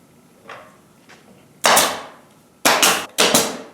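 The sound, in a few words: nail gun firing nails into wood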